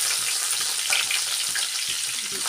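Coriander frying in a pan, a steady close sizzle with faint stirring scrapes running throughout, no talking.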